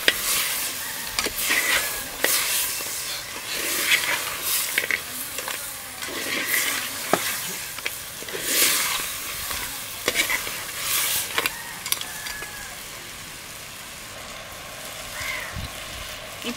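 Ingredients for a crab curry sautéing in a pan: a steady, fairly soft sizzle broken by repeated stirring scrapes and clatters of a spoon against the pan, with no talking.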